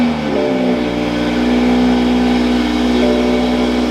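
A 2020 Ford Raptor engine cranks and catches, then settles into a loud, steady rumbling idle with a strong low hum, close by.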